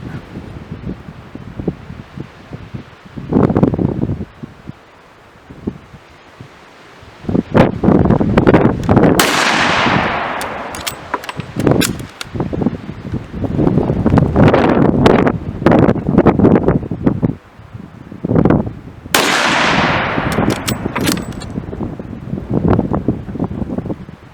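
CZ 527 carbine rifle fired outdoors in a four-shot string, sharp loud reports spaced several seconds apart with wind buffeting the microphone between shots.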